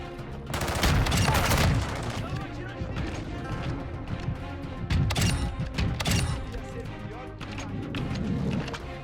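Shotgun fire in Call of Duty MW2 with a Bryson 800: several heavy blasts spaced a few seconds apart amid busy game noise, with a voice talking throughout.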